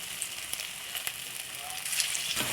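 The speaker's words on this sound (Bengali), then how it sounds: "বাদবাকি বড়াগুলো আমি ঠিক এইভাবে আবারও ছেড়ে দিচ্ছি, ঠিক একইভাবে ভেজে নেব মুচমুচে করে।" Potato fritters deep frying in hot oil make a continuous soft sizzle and bubbling with a few faint clicks, swelling slightly louder near the end of the short stretch, no one talking.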